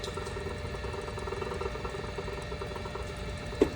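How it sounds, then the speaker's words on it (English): A buttonhole sewing machine motor winding a bobbin, a quiet steady mechanical whir and hum running continuously, with a single sharp click near the end. "if I flip this button, can you see it? It starts winding the bobbin"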